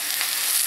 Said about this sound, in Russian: Лук я обжарила и отправляю в сковороду грибы.